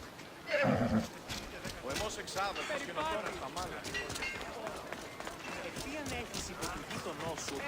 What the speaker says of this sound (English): You've made Spiro a happy horse, Mistios.